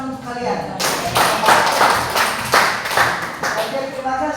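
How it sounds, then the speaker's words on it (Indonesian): Students in an Indonesian classroom clap together at the teacher's request, a burst of close, rhythmic handclaps starting after a brief pause and continuing steadily with some voice mixed in. "Berikan tepuk tangan untuk kalian."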